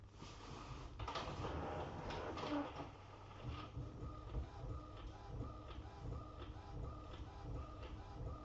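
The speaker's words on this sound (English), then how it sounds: "that has been sent to the printer and away it goes" A sublimation printer runs through a print job, a steady mechanical whirr with repeated shuffling and sliding clatters of the print head and paper feed, fairly close and at moderate level without any talk.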